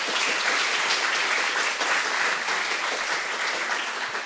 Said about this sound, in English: can I have your round of applause for Hannah Little